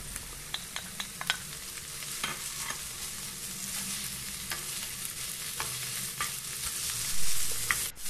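Canned mushrooms sizzling in a frying pan, a constant close hiss broken by several sharp utensil taps early on and scattered scraping stirs, no talking.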